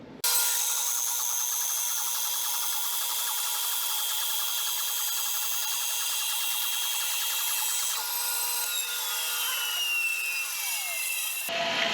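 A bandsaw fitted with a BladeLock guide insert cuts through wet birch with a continuous high, even whine and rasp, running close and steady for about eleven seconds before cutting off abruptly.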